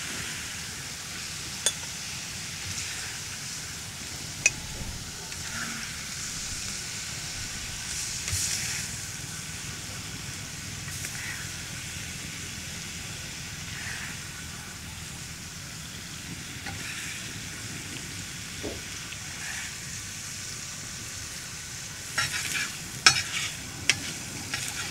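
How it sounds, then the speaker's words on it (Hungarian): Red onion and bacon fry in a pan with a soft, steady sizzle, broken by a few sharp clicks of stirring. The sound is fairly quiet and close, with no talking. "beleteszem a lilahagymát és a szalonnát egy kicsit sülni"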